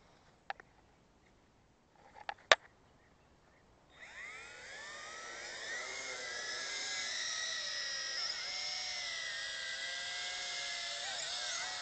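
A Tarantula X6 quadcopter drone carrying an action camera spins up after a few sharp clicks, then holds a steady, high-pitched buzzing whine of propellers in flight, close and continuous.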